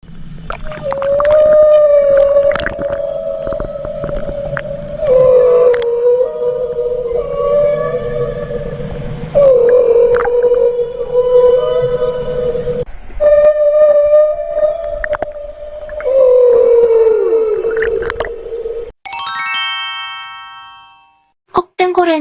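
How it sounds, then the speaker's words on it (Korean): Humpback whale mother and calf trading quiet, drawn-out tonal calls underwater, a steady series of soft moaning notes with brief gaps, ending in a short bright chime-like sound. "새끼를 노리는 포식자들 때문에 큰 소리로 노래할 수 없고 속삭이듯 끊임없이 서로를 확인하죠."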